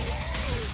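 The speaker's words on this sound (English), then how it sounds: "Watch it, I'm reloading." A weapon reload in the video game Killing Floor: a brief mechanical ratcheting click-and-slide of the gun's action, loud and close over dense background game noise.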